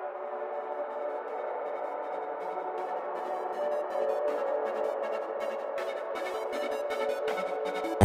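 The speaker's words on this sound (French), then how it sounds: "j'ai mis une reverb qui vient du plugin Drip" A hyperpop or rage beat intro made in FL Studio 20 plays continuously, washed in heavy reverb from the Drip plugin, with dense sustained synth layers, crisp percussive ticks and a steady loud level throughout, without any voices.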